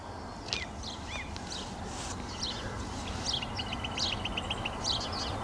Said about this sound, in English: That sounds like a song thrush.